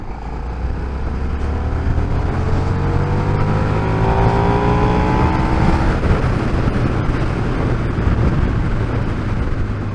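A 2024 KTM 1390 Super Duke R in fourth gear at about 40 mph and under 3,000 RPM, its engine a steady, close, throbbing rumble that rises slightly in pitch midway, mixed with constant wind roar.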